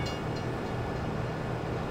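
A train rolls past a level crossing in Farming Simulator 17 on the Saxonia map, a steady continuous rumble of rail cars heard close and alone, with a low hum running throughout.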